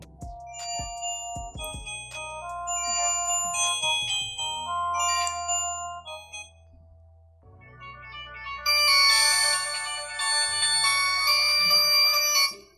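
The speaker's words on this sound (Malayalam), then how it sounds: "ഏതെങ്കിലും ഒരു റിംഗ് ടോൺ ഇപ്പോൾ നമ്മൾ വെക്കുവാണെങ്കിൽ" Ringtone playing from a Nokia 130 phone's built-in speaker, a bright electronic melody of chiming notes over a steady bass line, shifting to a denser, higher, louder passage near the end before cutting off.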